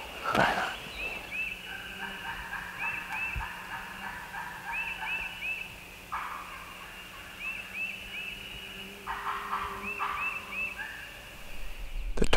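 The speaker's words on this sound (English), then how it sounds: "we still got two or three more back behind me here that are gobbling." Distant wild turkeys gobble in repeated bursts in Tennessee on turkey season opening day, against a steady outdoor hum, with a few faint bird calls in between.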